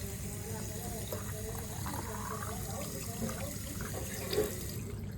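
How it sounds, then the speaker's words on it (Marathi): Water runs from a tap into a bottle, a steady low rushing flow held throughout at moderate level, faint and close, with a soft voice speaking under it. "यात पूर्ण पाणी भरायचं पूर्ण."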